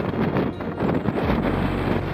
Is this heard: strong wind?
yes